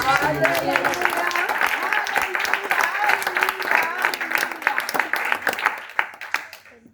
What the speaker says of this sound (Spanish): Dele un fuerte aplauso al Rey de Reyes.